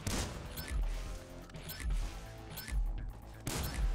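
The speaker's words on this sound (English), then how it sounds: "I love this shotgun, dude." Shotgun blasts in Grand Theft Auto V, several heavy booming shots spaced roughly a second apart, loud and close, over a busy game background.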